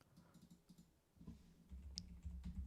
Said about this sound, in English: I'm typing so accurately right now just to prove a point